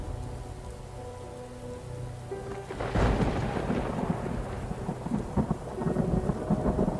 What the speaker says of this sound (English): I can't stand the rain.